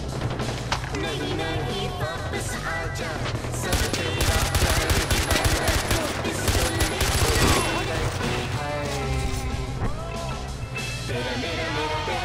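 In Far Cry 4, sustained automatic gunfire rattles in dense bursts from a gun fired out of a moving vehicle, loud and close, over engine noise and music with no talk.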